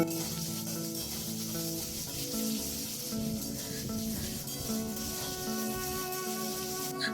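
Chopped onions sizzle in a frying pan and are stirred during Bengali home cooking, a steady close hiss running the whole time beneath sustained tonal background music.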